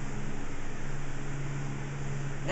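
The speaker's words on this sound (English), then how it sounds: "sorry about the noise, we have a fan going to help the ventilation" A steady broadband whir of a fan running close by, constant and unchanging, with a low hum underneath and no other sounds.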